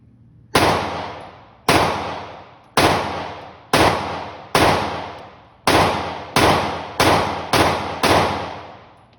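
A subcompact handgun fires ten sharp, loud shots at an irregular, fairly quick pace, each crack decaying briefly before the next, with no talking.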